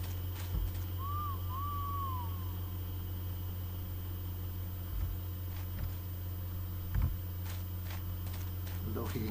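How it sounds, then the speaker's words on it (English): A bird call signal from the video game Thief 2: a single short warbling whistle early on, then quiet ambience with occasional soft thuds like footsteps. "Need to use the bird call he gave you."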